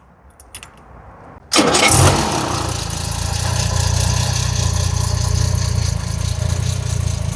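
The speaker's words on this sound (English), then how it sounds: "So let's get the engine started on this one here." Unrestored Jaguar E-Type engine cranks briefly, catches with a sudden loud burst, then settles into a steady, rumbling idle that continues close by.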